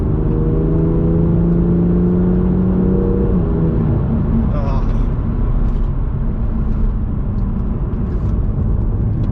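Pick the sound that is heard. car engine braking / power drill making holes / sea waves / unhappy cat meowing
car engine braking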